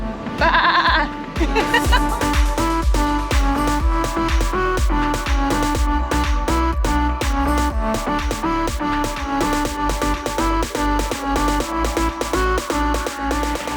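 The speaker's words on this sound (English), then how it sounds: "Hey sheep," Sheep bleat loudly, one sharp call at the start and then steady overlapping bleats with a rhythmic clatter underneath, outdoors near Hood River in the Columbia River Gorge, Oregon.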